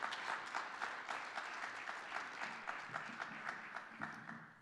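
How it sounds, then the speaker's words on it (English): Audience at a 2021 scholarship announcement breaks into steady applause, many hands clapping in a dense, continuous patter that holds at moderate loudness throughout, with no talk over it. "And I think that that's worth a round of applause as well."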